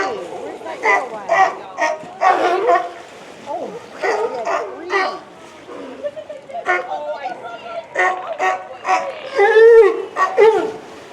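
Several dogs bark and yip in an excited frenzy over a thrown object outdoors, bursts coming in quick irregular clusters, fairly close, with people talking in between and over them.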